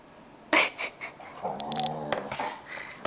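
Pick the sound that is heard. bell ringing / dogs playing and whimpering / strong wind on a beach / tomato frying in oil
dogs playing and whimpering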